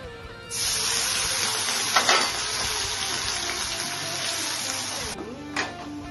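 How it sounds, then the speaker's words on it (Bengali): Sliced onions hit hot oil in a pan while making a Bengali mutton dish, giving a steady loud sizzling hiss that starts abruptly and runs for several seconds, with a few stirring scrapes and a short break near the end. "এখন আমার তেলটা গরম হয়ে গেছে, আমি এখন পেঁয়াজটা দেব।"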